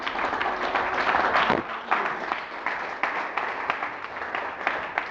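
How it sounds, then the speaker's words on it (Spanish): A church congregation claps for Jesus in a lively, uneven burst, individual claps standing out within the crowd noise, with faint voices mixed underneath. "dale un aplauso a Jesús"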